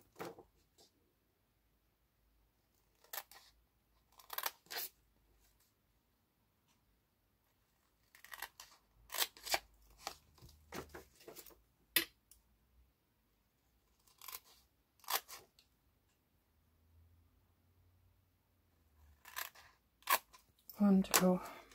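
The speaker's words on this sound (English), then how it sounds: "you're simply going to cut those away. Use straight lines, don't do any wedges." Scissors snip away the corners of scored acetate in short clusters of crisp, close cuts separated by pauses, with quiet talk in between.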